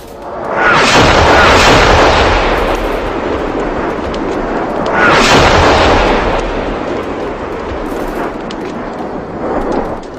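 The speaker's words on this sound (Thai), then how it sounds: "มีเสียงระเบิดไล่ตามมาข้างหลังหนึ่งทียิบ นัดหนึ่งจวนแจกใกล้มาก" Loud artillery explosions in a war story set at Phu Chuan Tua: heavy, rumbling booms, the first two large blasts about four seconds apart with long rolling decay, then a fainter third burst, continuous with no talking.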